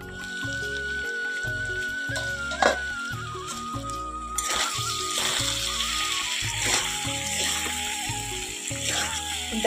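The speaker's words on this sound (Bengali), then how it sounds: "ভালো করে কষিয়ে নেব।" Spices being sautéed in a hot pan give off a continuous sizzle and crackle, loud and close, with a sharper burst of frying noise partway through as stirring continues.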